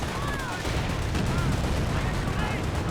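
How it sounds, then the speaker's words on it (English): Grenadier squads exchange rifle and small-arms gunfire in the real-time strategy game Company of Heroes, a dense, continuous crackle of shots over battlefield noise with faint voices mixed in. "Flame Engineers and Red Grenadiers firing away"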